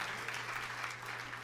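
A church congregation applauds in a steady, even wash of clapping over a low hum, sustained and moderately distant for the short span with no pauses.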